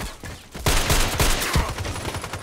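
Rapid run of DT SRS sniper rifle shots in the shooter game Contract Wars, about four or five sharp loud reports in quick succession over a steady background of game noise, with no talking.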